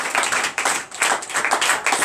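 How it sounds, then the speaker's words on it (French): A congregation at a night deliverance prayer service claps in acclamation, loud close rhythmic clapping in rapid bursts with brief dips between waves. "Donnez l'acclamation à l'Éternel"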